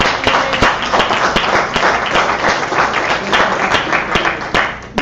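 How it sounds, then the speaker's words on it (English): Audience applause for two company leaders being introduced at a Javita coffee business presentation, a dense, steady clapping from a crowd that holds strong for the full five seconds. "Give these guys a round of applause."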